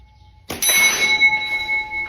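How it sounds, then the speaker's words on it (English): Olives shot into a swinging bell: after a quiet start, a sharp strike rings the bell, leaving a bright sustained metallic tone with several clear overtones that hangs on and slowly fades, no voices present. "This guy is shooting olives, I think, into a bell that's swinging."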